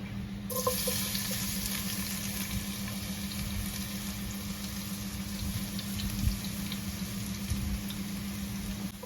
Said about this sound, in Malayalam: ഇപ്പൊ നമ്മുടെ വെളിച്ചെണ്ണ നന്നായിട്ട് ചൂടായിട്ടുണ്ട് അപ്പൊ ഇനി ഇതിലോട്ട് നമ്മുടെ ചതച്ചു വെച്ചിട്ടുള്ള വെളുത്തുള്ളി ഇട്ട് കൊടുക്കാം